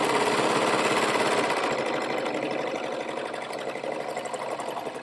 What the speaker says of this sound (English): We're serging our outseam seam allowance.